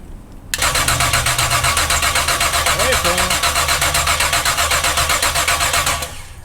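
A big block Chevy Camaro's starter cranks briefly, then the engine catches and runs with a loud, rough, rhythmic idle for several seconds before cutting off, with a voice briefly under it.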